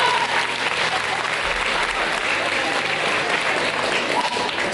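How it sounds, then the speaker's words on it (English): Audience at a Career Day keynote clapping together, a dense, even burst of applause holding steady from start to finish with no talk over it. "Clap it up for yourselves."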